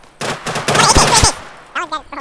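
Thompson and AK gunfire in the survival game Rust, a loud burst of rapid automatic shots in quick succession, followed by a short pause and a few more scattered shots.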